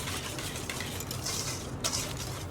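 Crepe batter being whisked with plain flour in a bowl for Persian sweet crepes, a steady scraping, stirring rattle of whisk against the bowl sides throughout, close and moderately quiet with no talking.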